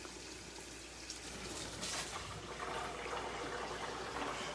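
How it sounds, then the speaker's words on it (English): Tap water runs at less than full force into a backpack sprayer tank, a steady close rushing and splashing that fills the whole stretch without a break, with no voices. "I don't want to turn the water on full steam"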